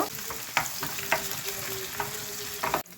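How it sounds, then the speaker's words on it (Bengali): Onions crackle and sizzle in hot oil, with several sharp stirring clicks and scrapes of a utensil against the pan. "তেল দিয়ে দিছি, এখন পেঁয়াজটা ভাজবো।"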